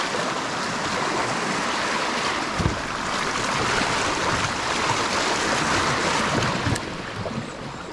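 Steady broadband rush of water flowing from a spring into Arkansas's Caddo River, heard close and continuous for the whole stretch, with a faint soft knock partway through.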